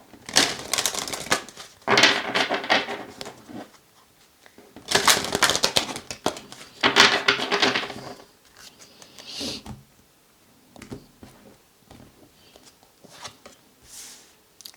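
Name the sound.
shuffling tarot cards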